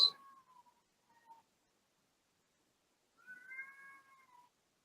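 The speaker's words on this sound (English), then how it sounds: "Do I hear a cat?" A cat meows twice, a short meow at the start and a longer, drawn-out one a few seconds later, faint and somewhat distant, with silence between.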